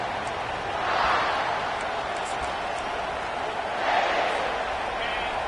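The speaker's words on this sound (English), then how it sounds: "this home crowd is fired up and ready to make a difference today" A home crowd at a college football game between South Carolina and Ole Miss sends up a steady stadium roar that swells twice, a broad distant wash of cheering with no single voice standing out.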